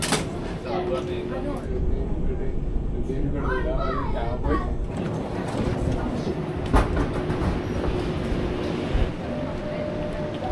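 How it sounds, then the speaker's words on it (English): Airport monorail train running, a steady low rumble with rail clatter and a few bright squeals and clunks, while nearby people chatter and talk throughout. "we have to take the monorail to the train station here at the airport"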